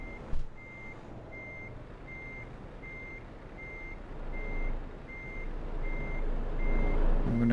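Reversing beeps from a truck in Euro Truck Simulator 2 repeat at a steady rhythm, a clear mid-pitched tone over a low engine rumble that swells toward the end.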